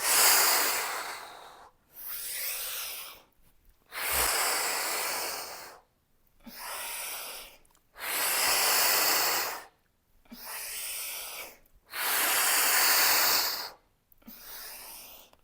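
Deep yoga breaths during a heart-opening practice, slow alternating inhales and exhales in long airy bursts with brief silences between, close to the microphone and free of talk.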